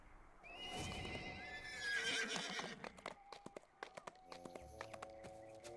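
In the online game DDO, a horse lets out a loud whinny, then hooves clip-clop in a quick, even rhythm as it moves off, with game chimes ringing over the steps.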